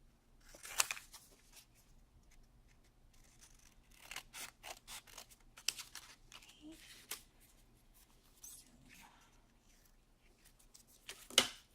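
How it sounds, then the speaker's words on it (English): Scissors trim cardstock paper for a handmade card in a run of soft, close snips and rustling cuts, some in quick clusters and others spaced apart, with a quiet background hum. "I'm just going to trim this out with my scissors"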